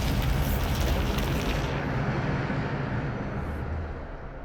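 A Bombarda spell blast in the Hogwarts Legacy video game: a loud, broad rumbling burst that starts strong, then slowly rolls off and fades over a few seconds, with no talking.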